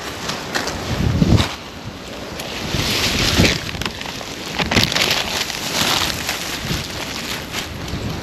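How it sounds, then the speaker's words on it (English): Strong wind gusting outdoors, a steady broadband roar with louder buffeting surges buffeting the microphone throughout, no one speaking. "The wind is gonna make this job a lot more difficult."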